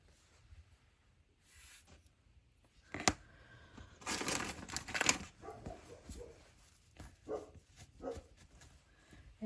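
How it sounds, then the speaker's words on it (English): Dogs bark in an indoor room, a few loud barks and whimpers in a short burst mixed with crinkling and rustling, otherwise fairly quiet. "Excuse the dogs."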